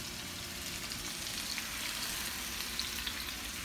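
Olive oil sizzles steadily in a frying pan, a continuous close crackling hiss with a few tiny pops and no voices.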